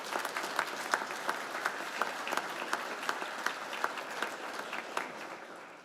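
An audience at a school completion ceremony claps steadily for the staff members. The applause is a dense, even wash of many hands that holds for several seconds, with a few sharper claps standing out.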